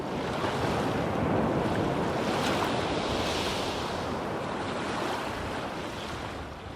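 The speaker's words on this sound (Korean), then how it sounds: "동해의 파도는 심장을 뛰게 합니다." East Sea waves crash and wash against the shore near Chotdaebawi, the candlestick rock, in a loud, steady roar of surf that never lets up, with some wind noise mixed in.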